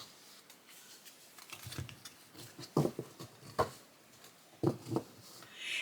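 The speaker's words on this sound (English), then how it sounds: "So let's see how they shuffle." A Seasons of the Witch Mabon oracle card deck riffled and tapped together in a few quick bursts, close up and fairly quiet, with soft papery flicks between the sharper snaps.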